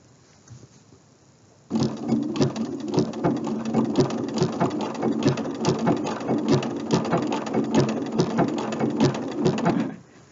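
Sewing machine stitching a buttonhole, starting abruptly after quiet and running as a fast, steady mechanical clatter of needle strokes, close and loud, for several seconds before stopping.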